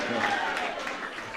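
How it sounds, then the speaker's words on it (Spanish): A crowd claps and cheers in a dense wash of applause, with voices calling out over it throughout. "Denle un aplauso al Cristo de la gloria."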